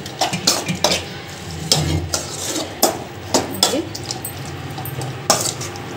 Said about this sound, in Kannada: ಇದನ್ನು ಈ ಮಸಾಲೆಯಲ್ಲಿ ಸ್ವಲ್ಪ ಚೆನ್ನಾಗಿ ಫ್ರೈ ಮಾಡ್ಕೋಬೇಕು.